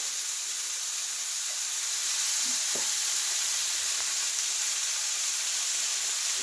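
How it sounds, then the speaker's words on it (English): Tomato paste fries in a pan for a Persian beef stew, giving a loud, steady, close hissing sizzle throughout with a couple of faint utensil taps. "Now that it's fried a little, I'm going to add a spoon of tomato paste,"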